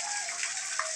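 Water overflows from a filling tank, gushing and splashing steadily in a short burst, a bright continuous rushing sound close by.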